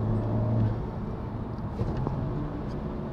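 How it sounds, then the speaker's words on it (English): Stock 2018 Honda Civic FK8 Type R on a drive, its engine giving a steady low rumble with faint wastegate chatter, close and fairly loud, no voices. "I can't believe you can hear that much of the wastegate, like at stock."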